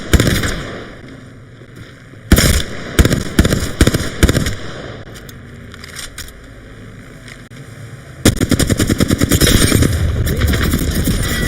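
Rapid bursts of gunfire in a shooter video game: dense automatic volleys and sharp single shots, loud and close, with a quieter stretch midway before a heavy sustained barrage.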